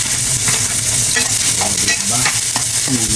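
Garlic and onions fry in hot oil for pancit with a loud, continuous close sizzle and crackle, plus a few stirring scrapes.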